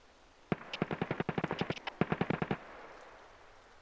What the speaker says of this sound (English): I don't know what gun that is. G36 maybe?